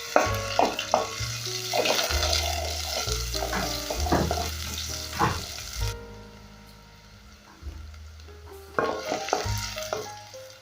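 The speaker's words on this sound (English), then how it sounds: "once my cooking oil is hot, I'll go in with my onions" Onions hit hot cooking oil and fry with a bright sizzle and stirring clatter, fading to near quiet midway before the hiss returns; rhythmic background music plays underneath and no one speaks.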